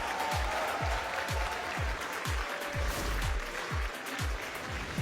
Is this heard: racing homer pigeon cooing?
no